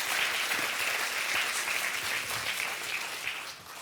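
A church congregation claps and cheers loudly in steady, dense applause that fades slightly at the end.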